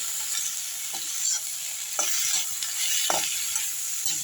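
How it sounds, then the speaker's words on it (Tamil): Mint, coriander and curry leaves sautéed briefly in a hot kadai for a traditional pirandai chutney, a soft continuous sizzle broken by several sharp spatula scrapes and stirs, close up and without talk. "புதினா மல்லி கருவேப்பிலை ரொம்ப வதங்க வேண்டாம் லேசாக ஒரு வதக்குனாலுமே போதும்"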